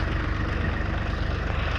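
A water pump engine runs steadily at a site where water is being pumped out, a continuous low throbbing drone with fast regular pulses, close and unbroken throughout.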